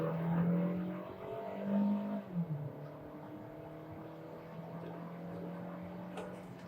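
A car, from a comparison of a Volkswagen T-Cross Highline 1.4 and a Hyundai Creta Ultimate 2.0, accelerates away from a standstill on wet pavement, its engine note rising steadily and loud, with the revs climbing through several gears.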